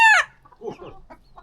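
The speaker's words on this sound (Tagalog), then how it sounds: "May 16 daw dyan na mga maliliit na manok." Chickens with a brood of sixteen small chicks: a brief loud crow opens, then soft scattered clucks and peeps follow nearby.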